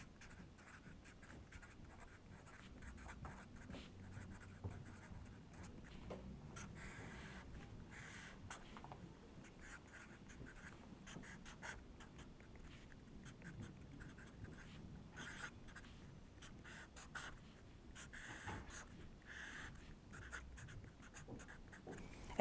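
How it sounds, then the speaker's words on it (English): A pen sketching app screen layouts on a paper iPhone template makes steady, close scratching strokes that run continuously with no talk. "get a pen and start sketching"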